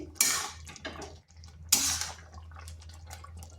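Semolina and water being stirred together in a bowl, with two sharp clattering scrapes of a utensil against the dish and softer wet stirring between them, close and fairly quiet.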